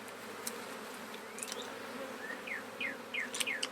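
Honey bees buzz during an outdoor hive inspection in the shade, a faint, steady hum broken by a few quick chirps and tiny clicks near the end.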